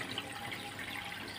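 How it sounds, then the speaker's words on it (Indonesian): Water escaping from leaking seals on the boxes of a recirculating aquaculture system for soft-shell mud crabs, heard as a continuous, close splashing trickle. "banyak yang netes"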